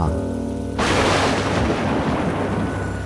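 Heavy rain pours down in a dense, steady roar with rumbling thunder underneath, arriving abruptly after a low droning tone.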